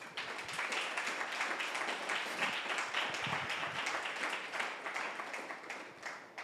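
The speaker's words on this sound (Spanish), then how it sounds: "Dale un aplauso al Señor." A church congregation at a Spanish-language service claps and applauds, a fairly faint, steady patter of many hands heard from a distance with no speech over it.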